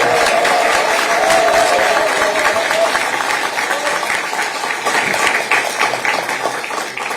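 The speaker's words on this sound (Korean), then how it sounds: "우리 김부겸 전 총리님께 아낌없이 후회 없이 뛰시라고 큰 박수를" A large crowd gives loud, sustained applause at an outdoor political party rally in Daegu, with dense clapping and scattered cheers that fade slightly toward the end.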